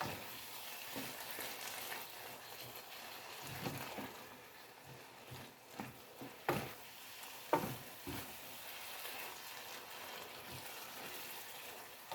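Fresh garden pasta sauce stirred in a hot pan, a steady sizzle with repeated scraping stirs and occasional louder clacks of the spoon, close up with no talking.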